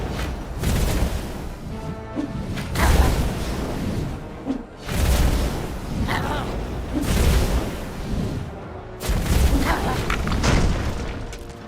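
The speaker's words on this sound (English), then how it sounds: "Because those are painful cannons. And there are several of them." Cannons firing in the video game Dungeons 3, several heavy booming blasts with rumbling tails, spaced a few seconds apart and loud against busy battle noise.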